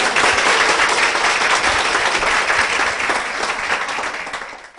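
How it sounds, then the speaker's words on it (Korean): A church congregation applauds as a deaconess is welcomed forward to give a testimony. The clapping is loud and dense, with many hands sustained throughout, then fades slightly toward the end with no voice over it. "박수로 부탁드립니다."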